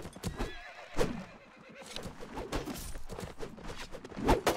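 A horse whinnies over a busy mix of clopping hooves and clashing impacts, with bursts of action sounds throughout.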